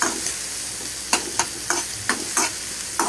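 Food fries briefly in a pan under a steady hiss, with a spatula stirring in evenly spaced scrapes about every third of a second, and no talking.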